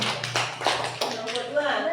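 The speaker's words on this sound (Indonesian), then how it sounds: "Tepuk tangan dulu untuk kelompok 1." A class of students claps for group one during a classroom lesson, scattered hand claps heard under a teacher's voice speaking throughout.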